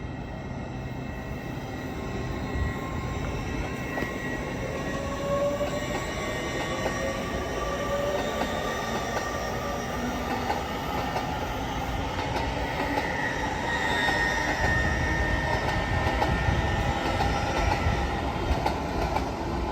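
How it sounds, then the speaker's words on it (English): An LNER Azuma train departs York station for London King's Cross, a loud sustained rumble of wheels with rising motor whine and squealing rails that builds steadily as it accelerates away, with no talking. "now about to depart is this LNER Azuma to London King's Cross"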